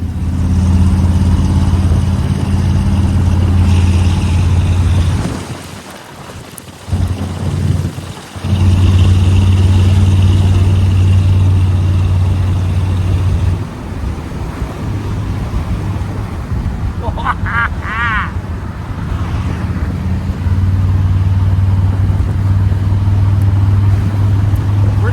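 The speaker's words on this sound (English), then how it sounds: "I'm gonna let it sit idling for 20 minutes" A van engine idles steadily and loudly up close with a low, constant rumble that dips briefly partway through, while a person talks over it.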